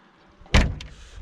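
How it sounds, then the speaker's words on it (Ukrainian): A red Fiat Uno 1.0 car door opens with a sharp close mechanical clunk from the latch, followed by a softer second click. "двері відчиняються"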